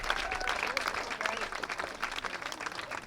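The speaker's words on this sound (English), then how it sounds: "Let's give them a round of applause" A crowd at an American Legion AAA baseball regional game claps after the players are introduced, a short burst of scattered applause mixed with talk over the stadium sound.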